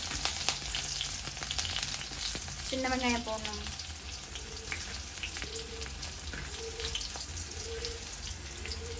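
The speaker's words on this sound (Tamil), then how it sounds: "சீரகம் போட்டதுக்கப்புறம் வெங்காயம், சின்ன வெங்காயம் போடணும்." Onions and small shallots dropped into a pan of hot oil with cumin seeds give a steady close sizzle and crackle, with a brief bright clatter early on and a faint voice underneath.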